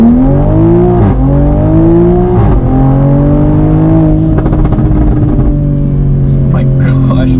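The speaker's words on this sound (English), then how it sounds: "let's try a first gear pull" Toyota Supra with a 500HP engine pulling hard from first gear, revs climbing in repeated rising sweeps broken by quick gear shifts, loud and close from inside the cabin, with a voice talking over it.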